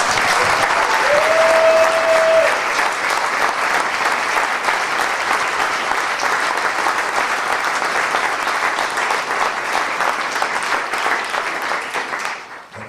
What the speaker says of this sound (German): Meine Damen und Herren, das ist ein Applaus wert